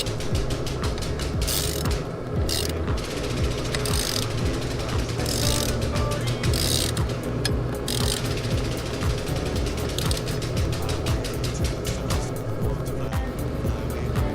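A ratchet tightens the hub bolts of a Sparco steering wheel on an NRG quick release and hub, rapid loud clicking running continuously under a low engine-like hum, close by, with no voices.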